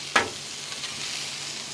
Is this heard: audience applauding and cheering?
no